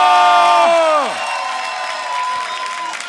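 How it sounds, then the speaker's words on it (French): A crowd at a dance battle competition cheers and whoops loudly with applause, shouting voices sliding down in pitch before settling into sustained clapping and chatter. "Et on peut l'applaudir"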